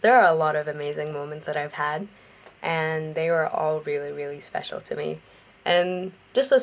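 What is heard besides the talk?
No distinct noise like a dog, phone or traffic.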